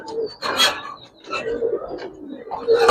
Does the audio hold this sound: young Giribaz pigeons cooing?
yes